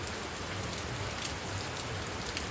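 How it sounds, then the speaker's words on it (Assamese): Heavy rain falls steadily in a continuous, dense hiss that stays even throughout, with no voices. "বহুত বৰষুণ এই বৰষুণত আহিব লগা হৈছে"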